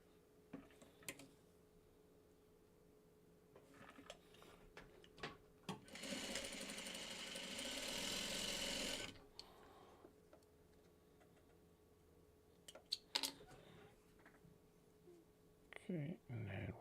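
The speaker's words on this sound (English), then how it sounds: "We'll sew these two together." A sewing machine stitches two quilt block pieces together in a steady burst of about three seconds midway through, with quiet handling noises before and after and a few faint clicks and taps.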